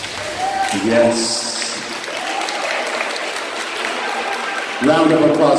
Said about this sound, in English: Round of applause for these great disciples.